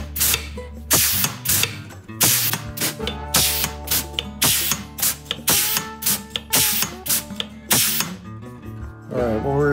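An aircraft strut pump is worked by hand through a series of strokes, building pressure on a test gauge. Each stroke gives a loud mechanical clack and ratcheting squeak, repeating in a steady, close rhythm of about a dozen pumps with no talk.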